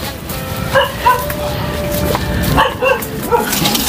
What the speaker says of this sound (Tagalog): Narinig ko na yung kahol po ng aso.